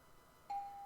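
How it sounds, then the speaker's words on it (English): A doorbell chime in a visual novel game sounds once, a clean electronic tone starting abruptly after near silence and holding steadily, quiet overall with no talking. "Before I even grabbed the receiver, the doorbell stopped me."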